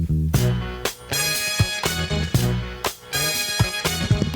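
Upbeat disco-funk recording of a song plays loud and dense, with punchy rhythmic hits and a steady groove throughout.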